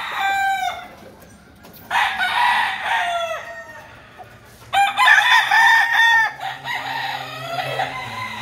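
A rooster with a mostly white tail crows loudly and close by in several long, wavering calls, with clucking from other fowl between the crows.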